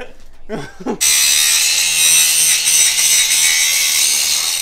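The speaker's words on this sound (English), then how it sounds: "It's definitely gonna need to be grinded." A grinder works a weld on the exhaust of a Lexus IS 300: a loud, steady, high-pitched grinding whine starts abruptly after a brief low knock and runs unbroken to the end.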